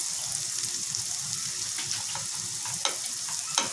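Onions frying in a pan for spicy scallops, giving a steady close sizzle with a few sharp crackles and pops near the end.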